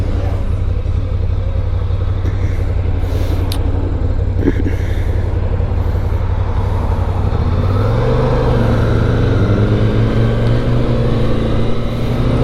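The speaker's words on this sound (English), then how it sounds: "Oh yeah, feel that downshift action." A 2023 Ducati Scrambler Icon Dark motorcycle on the road, its engine a loud continuous rumble with heavy wind noise, dropping in pitch partway through as it downshifts, heard close from the rider's position.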